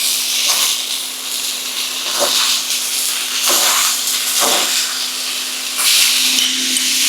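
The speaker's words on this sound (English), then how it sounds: "And we're going to add in our broccoli. Make sure to stir everything around." Broccoli stirred and tossed in a hot pan for beef and broccoli, giving a steady loud sizzle with a few soft scraping sweeps of a utensil, no talking.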